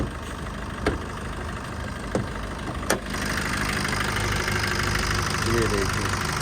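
Maruti Brezza 1.5 litre petrol engine idling with the AC switched off, a steady low rumble with a bonnet-muffled hum that holds constant, briefly broken by a few sharp clicks early on before settling into an even drone.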